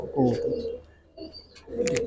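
Young Giribaz pigeon chicks coo softly at close range in a loft, two bursts of low throaty calls separated by a brief pause, with faint higher chirps near the end.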